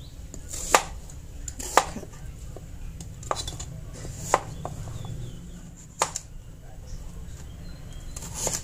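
Daikon radish is chopped on a board for soup, with sharp knife strikes arriving irregularly every second or so, moderately close, over quiet background with faint voices.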